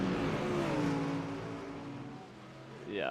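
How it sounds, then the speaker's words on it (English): GT race cars accelerate in a sim racing game, a loud sustained engine whine climbing and falling in pitch, with a sharp rising rev near the end. "Oh my gosh, these cars sound amazing."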